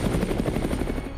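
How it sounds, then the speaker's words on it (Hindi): An Apache attack helicopter at a military demonstration, its rotor chopping in a fast, rapid pulse, loud and close with a dense, roaring engine wash. "अपाचे एक लड़ाकू हेलीकॉप्टर है"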